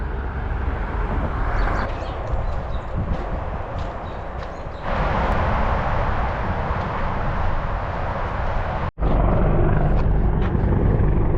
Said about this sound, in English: Some military helicopters here,